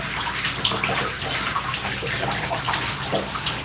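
Water runs steadily and loudly while hair is rinsed, a dense continuous splashing gush with no pauses and no talk.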